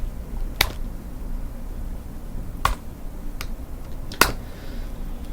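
A few sharp, isolated clicks from typing letters on a computer keyboard, spaced apart and close against a quiet background.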